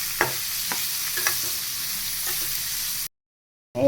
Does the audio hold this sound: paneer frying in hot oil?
yes